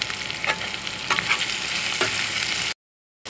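Onions fry in a kadai for a potato curry, a close continuous sizzle broken by several scraping stirs of a spatula, then a sudden cutoff to silence.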